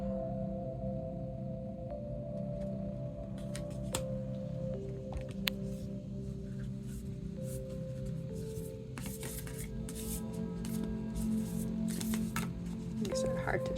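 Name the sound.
shuffling a deck of cards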